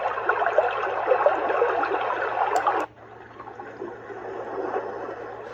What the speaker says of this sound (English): It's a creek, river, something like that.